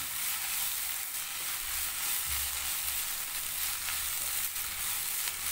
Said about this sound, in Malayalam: പച്ചമുളക് കൂടെ ചേർത്ത് കൊടുക്കാം അപ്പോൾ അതുകൂടെ ചേർത്ത് നന്നായിട്ട് ഇളക്കാം ആ സമയം കൊണ്ട് ഈ ഉള്ളിയൊക്കെ നന്നായിട്ട് വഴണ്ടി വരും